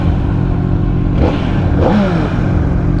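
Motorcycle exhaust rumble heard while riding through a town, a loud, continuous low engine drone with brief rises in revs and a little clatter.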